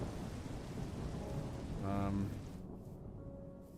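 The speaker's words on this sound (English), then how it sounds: "That thunder was loud, by the way." A thunderstorm in Minecraft with the Immersive Thunder mod: steady rain hiss with a swelling rumble of thunder that peaks midway, then the noise drops out abruptly near the end.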